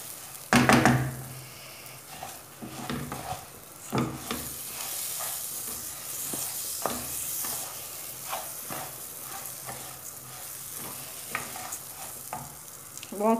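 Pasta frying in a pan over medium-low heat is stirred continuously, a constant sizzle broken by scraping strokes and occasional knocks of the utensil against the pan.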